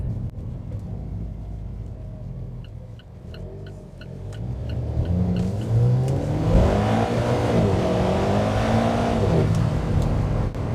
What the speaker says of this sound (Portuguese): Vamos descobrir antes de tudo como o motor responde.